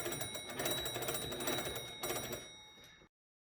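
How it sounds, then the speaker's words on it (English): An electric telephone bell rings continuously for about three seconds, a harsh rattling ring that stops abruptly, followed by silence. "The ringer inside the device should sound."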